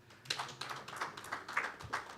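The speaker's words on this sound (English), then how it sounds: "You can clap." Scattered audience clapping during a bank's annual financial results presentation, a handful of sparse, uneven claps that are fairly faint, with no talk.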